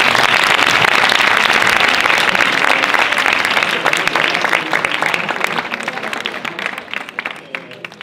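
Audience applause fills the room after a science talk at an Improciencia event, a dense steady clapping that starts loud and gradually thins and fades toward the end.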